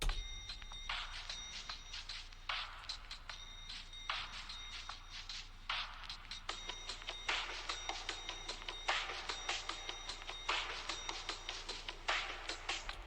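Several phonk loops from the Sekizo 2K25 kit play together, quiet and distant: a steady stream of clicky percussive hits with bright, bell-like tones that repeat in a looping pattern over a constant low rumble.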